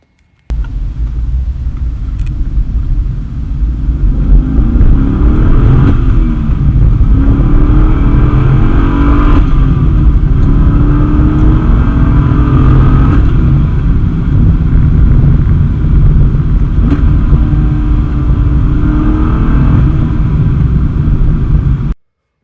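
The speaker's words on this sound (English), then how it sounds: "This engine sounds absolutely incredible under wide open throttle," A C6 Corvette V8 engine roars at wide open throttle, revving up through the gears with a deep, loud, sustained rumble and brief dips between shifts.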